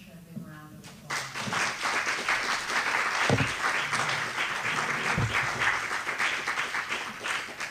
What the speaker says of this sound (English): let's give Dave and Tricia a big round of applause.